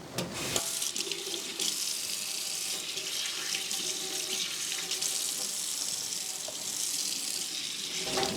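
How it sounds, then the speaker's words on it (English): Vegetables rinsed under a running kitchen tap, the water pouring in a steady close splashing stream into the sink with no voices. "Okay, I just rinsed them."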